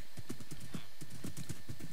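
A horse in a survival video game clops along in a steady rhythm. The crisp hoofbeats fall about four per second and stay clear and fairly close, with no talking over them.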